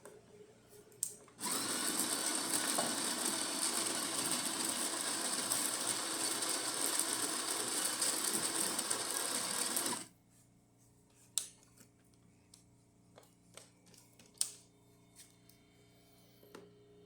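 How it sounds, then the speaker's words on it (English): A serviced DeLonghi Specialista espresso machine grinding coffee for a test shot: a loud, steady whirring grind runs for about nine seconds, then cuts out to quiet mechanical clicks and small knocks. "Grind some coffee on it and make espresso shot on it."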